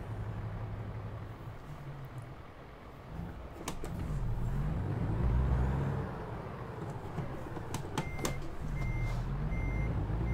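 An American Truck Simulator rig idles and revs, a low diesel rumble rising and falling, with a hiss of air brakes and a string of steady reversing beeps toward the end.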